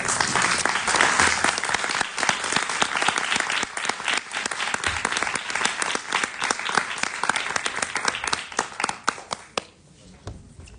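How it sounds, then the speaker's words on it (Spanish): A theatre audience at a panel discussion breaks into loud, dense applause with rapid overlapping claps that carry on steadily before thinning out and fading near the end. "Un aplauso."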